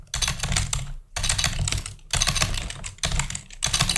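Rapid clicking keystrokes on a computer keyboard, typed in close, dense bursts separated by brief pauses, with no talking over it.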